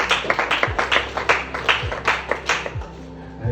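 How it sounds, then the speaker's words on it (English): An audience of students at a public speaking training applauds a student speaker: steady, fairly close clapping from many hands, with a few low voices faintly underneath. "Clap for her, please."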